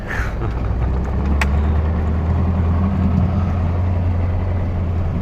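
Vehicle towing a trailer pulls away on a snowy northern winter road near Belaya Gora, Yakutia, a steady low engine drone and rumble, close and even throughout.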